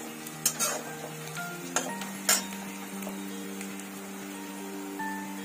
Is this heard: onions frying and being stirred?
yes